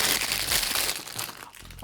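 Crinkly plastic packaging around a knitting decision dice is torn open up close, a dense burst of crackling and rustling that eases slightly toward the end.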